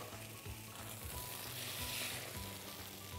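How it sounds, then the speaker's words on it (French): Custard-soaked brioche sizzles gently in hot butter in a pan, a steady close crackle with soft bubbling pops and no talking. "Je vais mettre ma brioche à colorer doucement dans mon beurre."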